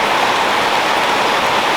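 Steady rain falling outdoors near a shed, a dense, continuous hiss of drops that is loud and even throughout with no voices.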